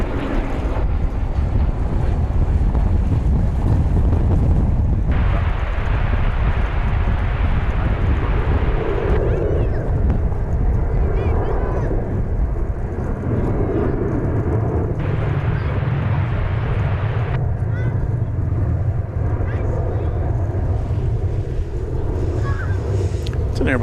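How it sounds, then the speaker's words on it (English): An American Airlines Airbus A321, Flight 500 from SFO, arrives at DFW Airport with a loud, continuous jet rumble mixed with heavy wind buffeting on the microphone, its hiss rising and falling in blocks. "From the city adjacent to the bay comes American Flight 500."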